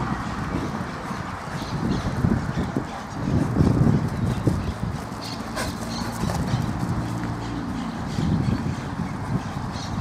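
Hooves of a chestnut Quarter Horse cross clop along at a walk, a steady, moderately close beat against a faint outdoor background with no talking.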